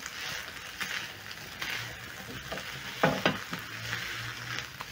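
Meat stir-frying with fresh basil and capsicum in a hot pan, a steady close sizzle with occasional stirring scrapes and clacks throughout, no voices.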